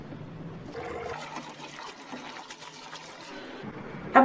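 Water runs while cabbage is washed in a home kitchen, a soft steady stream with splashing and trickling throughout, ending with a brief louder clatter, and no talking.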